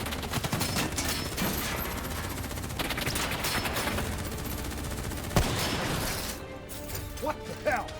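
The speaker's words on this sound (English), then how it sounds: "Who's shooting?" Sustained gunfire in Call of Duty: Black Ops 3, dense rattling bursts and overlapping shots filling the scene, with a sharp crack near the middle and shouted voices over the firefight.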